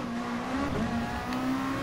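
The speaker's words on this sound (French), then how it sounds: "Enfin, j'adore le bruit des ruptures là." Racing car engine in Gran Turismo Sport, a Japanese GT championship race, holding a steady high-pitched drone that bounces off the rev limiter with brief dips around the shifts, loud and continuous with no talk.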